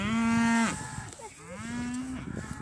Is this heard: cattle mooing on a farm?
yes